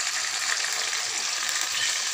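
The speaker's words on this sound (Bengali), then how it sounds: "এবার মশলাটা সুন্দর করে কষিয়ে নেব।" Spice paste of ground cumin and chili frying for a vegetarian soybean curry, a loud, dense, continuous sizzle close by with no talking.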